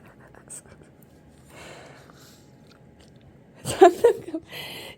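A baby chews and eats cheese by hand, close and quiet with soft wet mouth sounds and a short burst of louder chewing near the end, while an adult speaks softly nearby.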